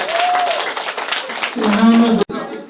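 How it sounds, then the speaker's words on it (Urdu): Audience applause welcoming prize winners at a madrasa educational exhibition in Gulbarga, a dense clapping wash running loud throughout, with a voice speaking over it and a brief cutout near the end. "تالیوں کے بین میں ان لوگوں کا استقبال کیا جائے."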